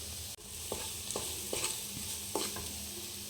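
Vegetables for a samosa filling being stirred in a pan, with a soft, steady sizzle beneath and several distinct scraping strokes of a spoon against the pan at irregular intervals, fairly quiet and free of talk.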